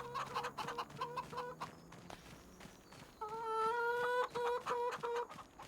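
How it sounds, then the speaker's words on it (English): Chickens cluck and squawk in a farming homestead survival video game, several birds calling in short repeated bursts close by, with steadier harmonic clucking growing louder in the second half over light footstep-like clatter. "Let's check on the chickens."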